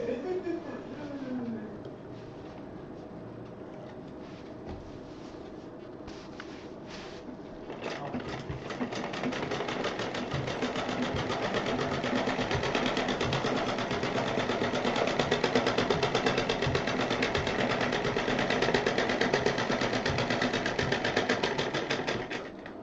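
A sewing machine stitches a DIY purse, starting after a few quiet seconds with a dense, rapid mechanical chatter that runs continuously and close, while a person speaks over it.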